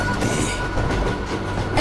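A cartoon train running on rails, a steady rumbling roll with rhythmic clickety-clack of wheels, continuous and fairly loud throughout.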